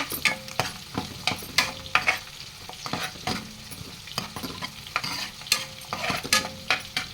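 Green chillies, curry leaves and coriander stirred in a hot pan for restaurant-style chicken manchurian, with irregular scraping strokes of a spatula over a low, continuous sizzle, close and fairly loud.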